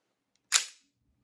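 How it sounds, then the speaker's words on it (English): Single sharp crack of a gas blowback prop gun powered by green gas or CO2, fired once at close range in an otherwise quiet room, with a brief hissing tail. "They're powered by green gas or CO2, I think. So they have a blowback."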